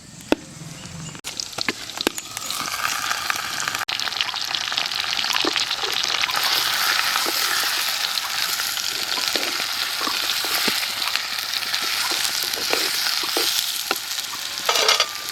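Chicken pieces going into a hot pan with taro and spinach, a steady loud sizzle of frying that swells after the first second and holds, with scattered scrapes and stirring clicks on top, no talking.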